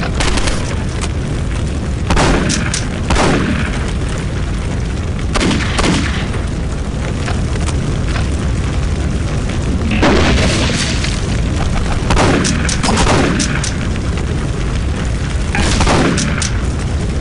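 Gunfire in the PC video game Postal 2, several heavy booming shots spaced a few seconds apart over a constant game background, with no talking.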